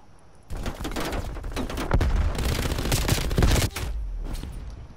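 Sustained automatic fire from an MG 82 machine gun in the video game Call of Duty Black Ops Cold War, a dense rattling burst of about three seconds, then quieter game sounds.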